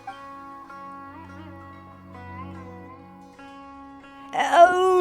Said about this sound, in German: Das war meine Katze mit dem Pfoten. Die ist auf die Tastatur gekommen.